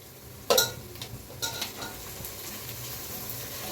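Vegetables sauté in a hot pan at home, sizzling steadily while a utensil scrapes and clanks against the metal a couple of times, close and fairly loud.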